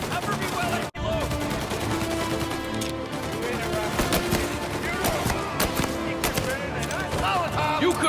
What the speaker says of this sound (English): Shoot him before he comes up the stairs!